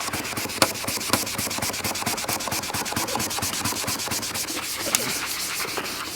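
Rubbing alcohol is wiped across the plastic case of a Compaq Presario 5528 CRT all-in-one PC, making a fast, rhythmic scrubbing rub, close and continuous, with no talking.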